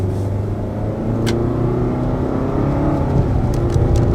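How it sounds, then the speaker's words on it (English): A Renault 2.5 litre turbocharged petrol engine accelerates from inside the car on a twisty road, a steady low rumble and rising engine drone heard throughout, with no talking. "that turbo sings beautifully when you give it a bit of go"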